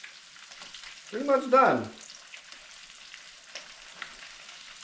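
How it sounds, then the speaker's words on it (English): Bluegill and crappie fillets frying in a pan of grease, a faint continuous sizzle with light crackle underneath while a person talks briefly up close. "So you can actually hear it's sizzling less."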